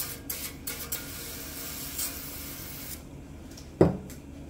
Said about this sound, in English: with the baking tin I'm just gonna spray some oil